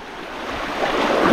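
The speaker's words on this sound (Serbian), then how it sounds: "U, je jaka voda ovdje, brate moj." The strong current of the Nera river near Bela Crkva rushes loudly and close by, a broad, swelling roar of water that grows stronger over the brief moment, with no talk.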